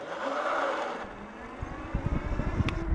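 A dual-motor electric bike accelerates hard with wheel spin, giving a rising whine followed by gritty, rapid scrabbling bursts of tire against ground.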